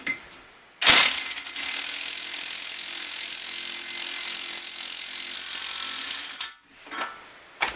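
Impact gun hammering out a screw from a 2003 Nissan Altima front wheel bearing, one loud sustained burst of rapid rattling impacts lasting about six seconds, then a brief short second burst, close up with no talk.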